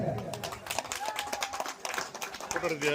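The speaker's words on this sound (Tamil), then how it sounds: "கைத்தட்டுங்க." An audience claps at a prize ceremony for a district-level kabaddi tournament at Panchanadikulam near Vedaranyam: a scattered, continuous patter of hand claps from a nearby crowd, with a voice speaking over it.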